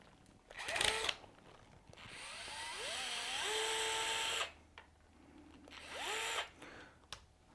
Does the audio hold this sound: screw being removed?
yes